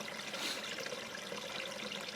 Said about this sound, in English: you can see the river running here beside me